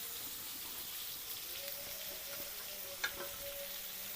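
Salted eggplant pieces fry in oil, giving a quiet, steady bubbling sizzle with a faint clink partway through.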